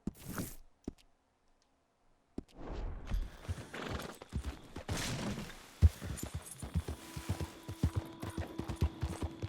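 Horse hooves in Red Dead Redemption 2 clop in an uneven, quickening rhythm after a quiet start, mixed with game sound effects and a faint whinny.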